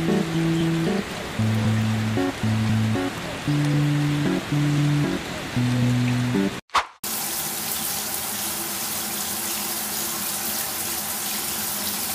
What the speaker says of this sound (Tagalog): nakakaranas tayo ng malalang ulan